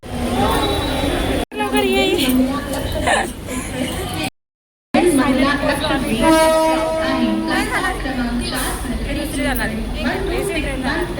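A train horn blares in drawn-out tones over the rumble of a passing train at a crowded railway station during the Raksha Bandhan rush, with crowd chatter and voices close by throughout.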